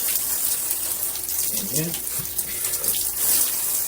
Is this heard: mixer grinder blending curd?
no